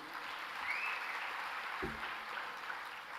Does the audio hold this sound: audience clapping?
yes